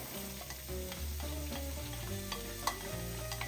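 Chopped red onion and mushroom sweat in a pan, giving a steady, even sizzle with faint stirring, heard close under tonal background music.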